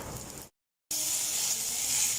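Tomatoes sautéing in a pan for rasam give a steady, close hiss and sizzle, broken by a short gap of silence before the frying resumes at the same level.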